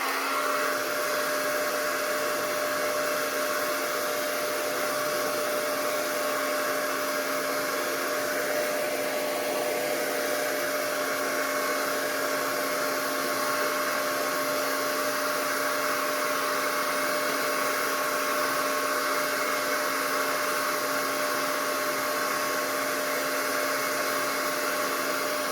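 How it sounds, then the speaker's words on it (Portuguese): A hair dryer blows steadily to heat and soften synthetic leather for a box-shaped cosmetic bag, a constant close whir and hiss of air with a faint tonal hum, unbroken throughout. "Vou usar o secador de cabelos para amolecer o sintético."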